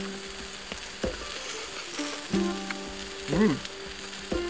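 Steady sizzling and crackling of steak cooking on a hot grill at a campsite, with a few clinks and a brief murmured sound from a nearby voice.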